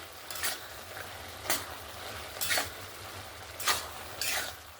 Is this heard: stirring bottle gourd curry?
yes